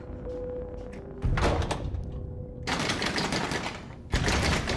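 A locked hospital door is tried and rattled, giving several loud, close knocking thuds and clattering bursts with a quieter background hum in between.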